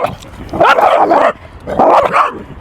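Close, loud dog barking in two bursts of several rough, rapid barks with a brief pause between, heard alone without talk.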